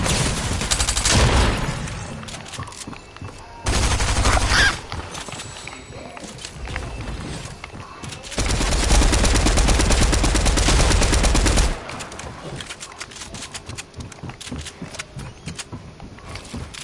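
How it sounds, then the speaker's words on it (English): Rapid SMG bursts crackle in Fortnite, several dense, loud stretches of automatic fire separated by quieter gaps of footsteps and game ambience, heard without speech. "You wanna duel me with SMGs?"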